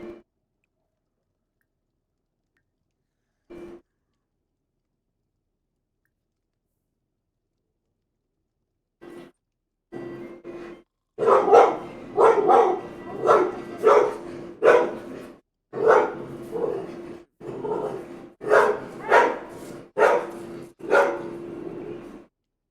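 A dog in a video game barks in a quick, repeated series of sharp, fairly loud yaps, close and clear, after a few isolated faint sounds over the first ten seconds.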